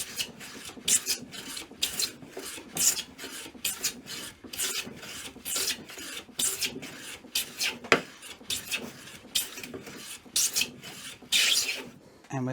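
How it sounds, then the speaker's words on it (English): Hand plane smoothing a wooden board, taking full but narrow shavings: a steady series of rasping strokes, close and fairly loud, repeating in an even rhythm with no voice over them. "Now you can hear the sound that it's making full shavings, but not full width."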